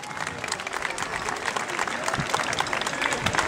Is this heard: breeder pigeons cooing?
no